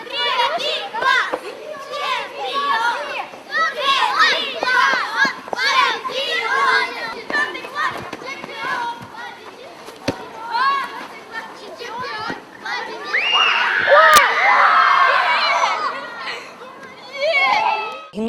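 Schoolchildren at an interclass school match shout and chant together, a loud, dense wash of young voices with overlapping cries and excited calls, swelling near the end.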